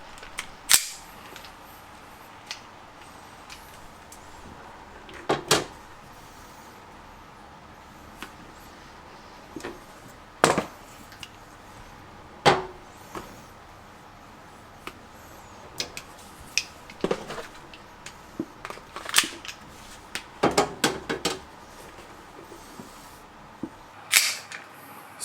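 The trigger of a TTI/STI Combat Master MST V3 gel blaster is pulled repeatedly, giving sharp, close mechanical clicks and snaps at irregular intervals over a quiet background, sometimes in quick pairs.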